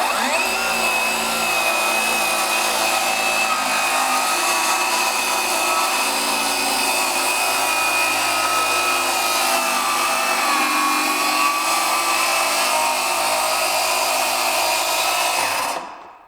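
A Ryobi 18V ONE+ HP brushless 7-1/4-inch circular saw (PBLCS300B) making a quick cross cut through wood: a loud, steady high-pitched whine of blade through timber held for about sixteen seconds, then cutting off abruptly.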